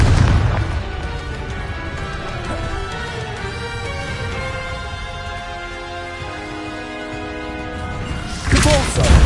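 Fire spell explosions from Hogwarts Legacy, a series of booming blasts and crackling bursts layered over game music, with a louder burst near the end.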